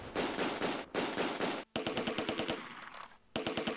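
Rapid bursts of machine-gun and rifle fire in the wartime strategy game Close Combat II, loud and dense, with brief pauses between volleys and no talking.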